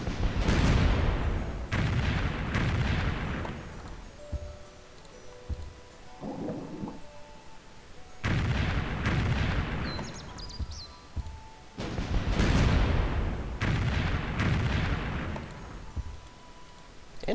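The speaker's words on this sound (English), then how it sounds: "let's just keep bombarding this city" Artillery bombards a city in Civilization III in three heavy bursts of booming, crackling fire, with quieter stretches between them that carry faint tones and small clicks.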